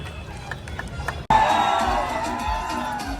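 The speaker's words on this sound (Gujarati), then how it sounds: "ભાઈ જોરદાર તાળી થવી જોઈએ." A crowd bursts into loud cheering and applause at a grand opening of a ghughra snack shop in Morbi, the roar starting abruptly after a brief hush and continuing steadily at close range.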